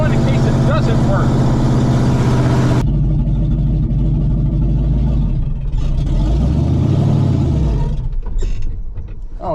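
A 1986 GMC 7000 plow truck's engine rumbles loudly and steadily, its low drone shifting in pitch midway before running on to the end.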